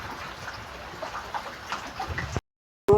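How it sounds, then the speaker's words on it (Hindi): Heavy rain that has been falling all day, a steady dense hiss of drops for a couple of seconds, then a sudden cut to silence and a brief final bump. "बारिश आई हुई है।"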